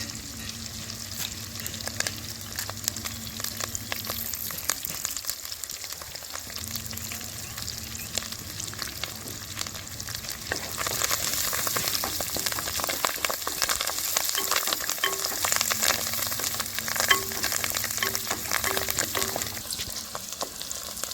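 Four sprigs of curry leaves fry in hot oil in a pot for mutton curry, making a dense, crackling sizzle that swells louder partway through. The spitting oil is close and steady, and no one speaks.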